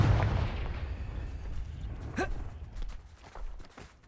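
A Confringo fire spell in Hogwarts Legacy goes off as a booming blast with a rumbling tail that fades over a few seconds, joined by a brief whooshing flare and some scattered game effects.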